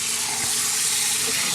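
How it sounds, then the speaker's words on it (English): Water from a tap pours steadily into a dish holding two chunky salmon pieces with salt, a continuous close rushing splash with no pauses. "Add some water to that."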